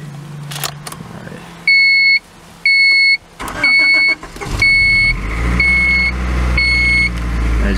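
A 1989 Honda Prelude Si 4WS sits with its key in, chiming repeatedly, then its engine cranks on a chilly day, catches and settles into a loud, steady idle close by.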